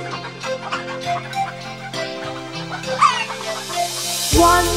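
A hen clucking as a nursery-rhyme sound effect, layered over bright sung music with steady clucks and a brief crowing-like call, all fairly loud and in front.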